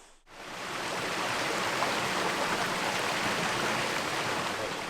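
A steady, loud rush of falling water from the waterfall at Geomryongso spring in Taebaek, carved into Paleozoic limestone. It starts abruptly after a brief moment of quiet, then pours on unbroken and close.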